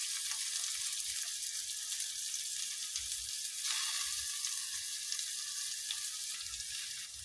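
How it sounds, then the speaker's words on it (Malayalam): Sliced onions and slit green chillies sizzle and fry in a pan for a simple chicken curry, a steady, close hiss broken by soft scraping and stirring bumps, with no voices. "ഉള്ളി വഴണ്ട് വരുന്ന വരെ നമുക്കൊന്ന് നന്നായിട്ട് ഇളക്കി കൊടുക്കാം."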